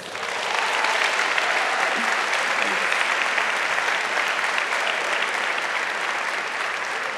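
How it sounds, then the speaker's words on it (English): Steady, dense applause from a large audience at a pitch competition, sustained at full strength for several seconds without pause. "Please give a big round of applause for Nikki Trip, Jan-Pieter Versluijs, Nienke"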